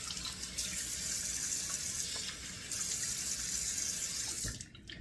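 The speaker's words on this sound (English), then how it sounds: "So let me turn on cold water here" Cold water pours steadily from a bathroom tap into a sink, a close, continuous splashing rush that cuts off near the end.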